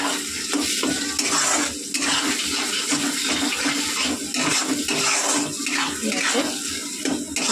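Long bean paste frying in oil in a wok, a steady loud sizzle with rhythmic stirring scrapes throughout, a voice speaking briefly over it.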